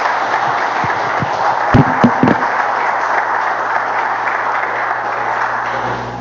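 Church congregation applauding at a worship service, a broad steady wash of clapping from many hands in a large room, with a few sharper nearby claps standing out early on.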